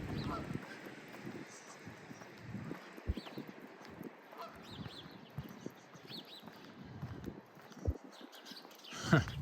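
Geese honk by a creek on an April walk in Regina, with several calls scattered at moderate distance over outdoor background noise.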